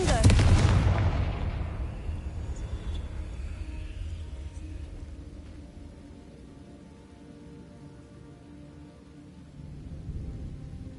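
A Confringo fire spell in the Hogwarts video game lands as a loud, booming explosive blast at the start, then decays into a long rumbling tail with crackling debris and a faint low rumble that lingers to the end.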